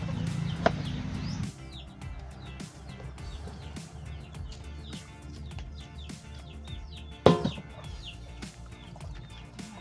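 Chickens cluck in short, scattered calls at a moderate distance, with occasional chirps and a couple of louder knocks or clatters nearby.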